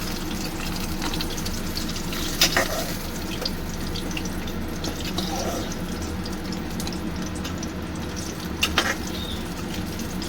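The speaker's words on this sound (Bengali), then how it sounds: "খুব ভালো করে এই যে আলুগুলো একদম লাল করে ভেজে নিয়েছি আমি।" Potatoes frying in hot oil, a dense continuous bubbling sizzle held close and steady with a couple of brief clinks, no voices.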